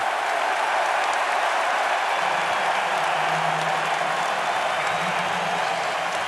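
A basketball arena crowd in an NC State versus Kansas game roars in a loud, sustained wash of cheering and applause reacting to a foul call, with no talk audible.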